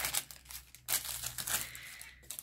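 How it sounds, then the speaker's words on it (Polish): Paper wrappers from skincare packages crinkle and rustle in short bursts close by as they are handled and set aside, with no talking. "Dobra, te dwa papierki też idą na bok."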